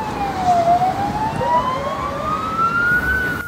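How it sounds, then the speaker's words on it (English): A police siren wails in a slow rising and falling sweep, fairly close and loud, over steady traffic rumble. "That's police car, huh? Police car!"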